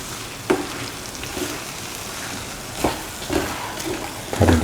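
Plantain and shallots sautéing in a pan for a plantain cashew stir fry, a steady close sizzle with a few louder scraping stirs and clatters spread through it.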